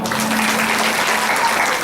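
An audience at a Ramayana recitation in a village breaks into loud, continuous applause, a dense wash of clapping hands that holds steady throughout.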